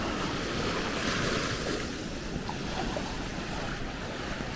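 Ocean surf washes steadily against a rocky shore at a scenic Okinawa viewpoint, a continuous broad roar with wind buffeting the microphone and no talk.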